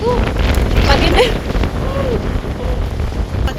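Strong wind in the UK buffets a microphone outdoors near a large church, a loud rushing roar that swells and eases, with people speaking over it.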